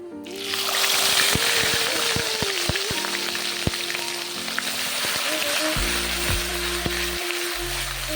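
Loud, constant sizzle of chicken frying in a pan, close up, with occasional scraping stirs and a faint background hum.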